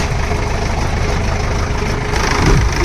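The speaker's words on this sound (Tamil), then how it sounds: "இது இந்த வண்டியோட இன்ஜின்." A 1990s Mahindra Jeep with an all-iron body idles with its engine running, a loud, steady low rumble with an even mechanical throb and no speech over it.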